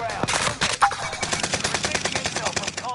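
Rapid automatic gunfire from a firefight in Call of Duty Warzone on Rebirth Island, a dense run of close, loud bursts with sharp regular shots filling the whole stretch and a brief voice cutting in.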